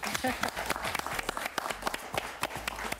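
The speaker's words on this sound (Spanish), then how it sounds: "Un aplauso para ella, por favor." A television studio audience claps and applauds, a busy patter of many hands throughout, with a voice speaking over it near the start.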